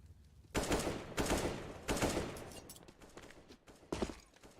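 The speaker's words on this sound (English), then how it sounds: "Shot in from ZywOo, starts things off by taking out JR." Bursts of rapid gunfire from a Counter-Strike match on the Inferno map, pro tournament play; three loud volleys early, a quieter stretch, then one more sharp burst near the end, with no talk over it.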